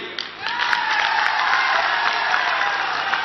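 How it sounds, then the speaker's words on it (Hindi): A crowd at an outdoor political rally in Assam claps in sustained, dense applause that swells quickly and holds steady, a broad wash of hand claps filling the space. "आप ताली बजा रहे हो"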